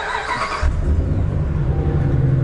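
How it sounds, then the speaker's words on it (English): A Dodge engine with a P2135 throttle body fault starts up nearby, rising abruptly into a loud, steady low idle rumble that continues to the end. "if we turn on the vehicle right now"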